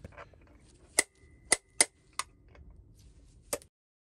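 A Chinese diesel heater motor having its centre tapped out: five or six sharp, separate metallic taps spaced irregularly over a few seconds, close and crisp against quiet.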